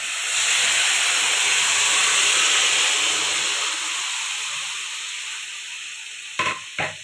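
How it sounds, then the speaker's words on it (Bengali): Steady loud hiss of Bombay duck fish sizzling in hot oil in a wok, close and continuous, easing slightly toward the end, where two short clanks are heard. "এবারে ওই লোটে মাছটা কড়ার মধ্যে দিয়ে দেবো।"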